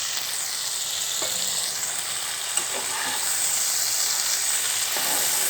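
Bitter gourd frying in oil in a pan gives a steady, loud sizzle with a faint scrape or two of stirring, and no voice.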